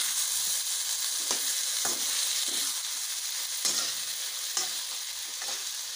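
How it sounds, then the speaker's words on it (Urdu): Stuffed bitter gourds filled with minced meat fry gently in a pan, a continuous moderate sizzle marked by several sharp scraping stirs at irregular intervals. "اور ان کو ہلکا ہلکا فرائی کروں۔"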